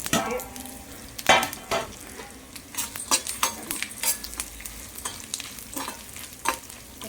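Ingredients for kuzhambu fry in a pan while a spoon stirs them, with irregular scraping and clinking strokes of the utensil against the metal over a low, close sizzle, and no voices.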